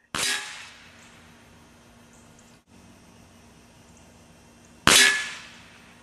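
Two sharp shots from a Benjamin Discovery air rifle firing Crosman Premier hollow point pellets at a 25-yard target, each a loud crack with a short ringing decay, separated by several seconds of quiet.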